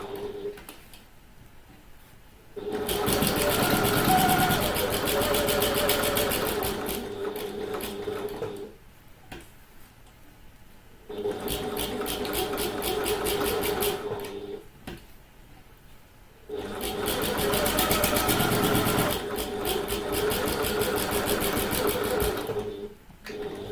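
A sewing machine stitches the seams of a handbag in three steady bursts of rapid mechanical ticking, each several seconds long and separated by short pauses while the fabric is turned around curves, up close.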